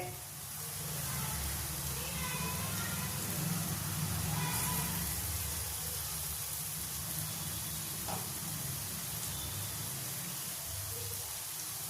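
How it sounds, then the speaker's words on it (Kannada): Onions fry in a pan for an onion rice dish, giving a steady, close sizzling hiss that runs unbroken throughout, with a faint low murmur underneath. "ಈರುಳ್ಳಿ ಬೇಯ್ತಾ ಇದೆ ಸ್ನೇಹಿತರೆ"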